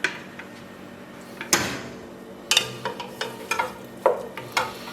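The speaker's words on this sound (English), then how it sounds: "we'll take some of the ragu and we'll mix it with the pasta and just kind of let it continue to cook" Pasta being stirred into Genovese ragu in a pan, with irregular scraping and clattering strokes and a faint background sizzle, close and moderately loud.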